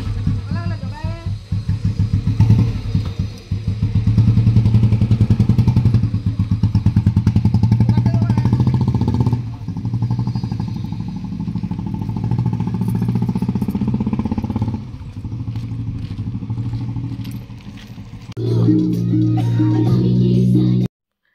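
Bullet motorcycle carrying a family, its engine thumping loudly and steadily up close for most of the ride. The note dips and surges as the rider works the throttle, and voices and festive noise blend in underneath.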